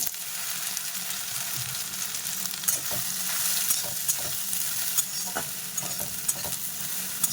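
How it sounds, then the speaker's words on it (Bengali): Small soybean chunks fry in hot oil in a pan with a constant close sizzle, while a spoon stirs and scrapes in irregular taps and clatters. "এই যে বাচ্চা সয়াবিন মানে ছোট সয়াবিন এটাকে আমি বাচ্চা সয়াবিন বলি এটাকে ভেজে নেব"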